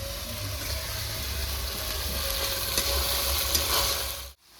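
Ginger-garlic paste stir-fried in a pan for chicken chukka, a steady loud sizzle with faint stirring scrapes, running continuously before cutting off abruptly near the end.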